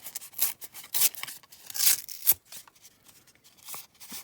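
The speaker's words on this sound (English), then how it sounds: "I'm just going to tear that right away" Scrapbook paper is torn in a series of short, sharp ripping bursts, several quick tears with brief pauses between, close and crisp with no talking.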